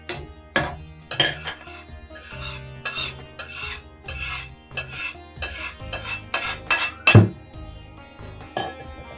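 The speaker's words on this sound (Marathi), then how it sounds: "पहिल्यांदा मी खसखस घालणार आहे. त्यासाठी त्यामध्ये मी तूप घालणार नाही, फक्त अशी कोरडी भाजणार" Poppy seeds dry roasting in a kadhai with no ghee, stirred by a metal spatula that scrapes and clinks against the pan in irregular close strokes, with no one talking.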